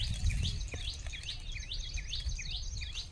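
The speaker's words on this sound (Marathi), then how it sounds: "पक्ष्यांची किलबिलाट" Birds chirp in repeated quick, rising-and-falling calls over a low background rumble, several bright notes in steady succession with no talking.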